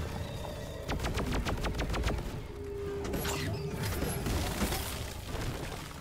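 Rapid bursts of cryo cannon fire from a Deep Rock Galactic-style shooter, a fast crackling and hissing stream with sharp repeated clicks that fades into a lingering icy whoosh, loud and alone without talk.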